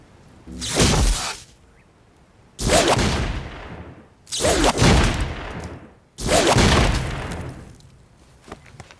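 Small-arms fire aimed at a target about 60 to 70 yards away, four separate heavy blasts spaced roughly every two seconds, each with a long loud decay, near and with no talk.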